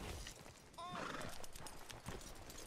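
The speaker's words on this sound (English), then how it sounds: "Aww, there's my little horse." A horse in the video game Red Dead Redemption 2 gives a short whinny near the start, followed by soft clopping hooves, faint and close under a quiet background.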